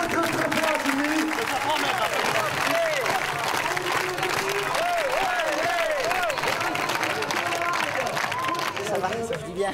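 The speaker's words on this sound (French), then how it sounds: "Je vous demande de lui faire une ovation et de l'applaudir." Audience applauding a female bodybuilding champion at a strongest-man contest, steady dense clapping with cheering and crowd voices mixed in throughout.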